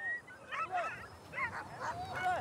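Sled dogs in Kamchatka yipping, whining and barking in short, high, overlapping bursts, several animals close by and moderately loud, with no clear talking.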